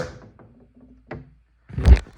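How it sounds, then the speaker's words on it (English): A Hot Toys 1/6 scale DeLorean Mark 2 model door being pried open: a faint click, then a louder plastic thunk and rattle near the end, close by and with no talking. "Trying to open this door."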